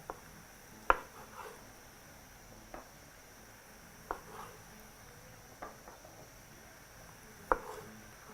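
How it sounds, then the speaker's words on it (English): A sharp knife slicing cherry tomatoes in half on a board, several faint, separate taps and cuts spaced a second or more apart in a quiet kitchen. "very gently with a sharp knife, proceed to just slice those into half"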